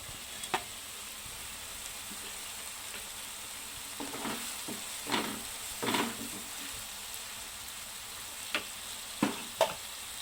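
Whole cloves and black peppercorns frying in hot oil give a steady, quiet sizzle, broken by a few sharper pops and crackles scattered through the stretch, with no voices.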